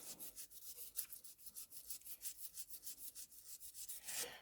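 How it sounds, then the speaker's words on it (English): Sandpaper of 320 grit rubbed over a ceramic repair in steady back-and-forth strokes, a close, fairly quiet scratchy rasp repeating rhythmically with no talking. "then again I would start sanding"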